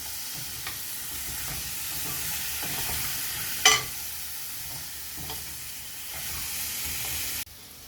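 Sambar ingredients for a radish (mullangi) sambar sizzle steadily in a pan while a spoon stirs them in scraping strokes, with one sharper clack midway; continuous close frying hiss, no talk.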